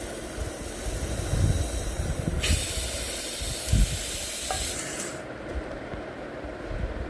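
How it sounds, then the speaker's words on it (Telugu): A mixer grinder whirs loudly and steadily while grinding rice into fine semolina, its harsh grinding roar shifting tone a couple of times, with no one talking. "గ్రైండ్ మిక్సీలో వేసుకొని సన్నటి రవ్వలా చేసుకోవాలండి"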